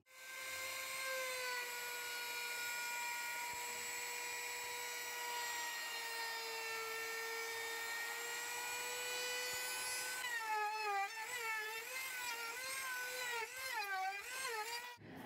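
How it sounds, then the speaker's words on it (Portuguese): A router rounds over the edges of a wooden cutting board, whining at a steady high pitch for about ten seconds and then wavering up and down as it is pushed along the edge, loud and close, with no speech. "a gente vai passar uma tupia em toda a borda"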